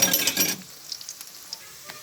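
Fritters of blended lentil paste (peyaju) hiss loudly in hot oil for about half a second, then the sizzle drops away, leaving faint clinks and a low background.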